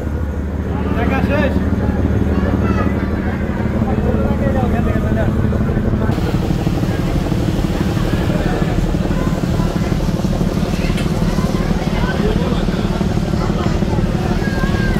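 Manami passenger launch under way near Barishal, a loud steady engine drone with water churning and rushing alongside, continuous throughout with voices talking faintly in the background.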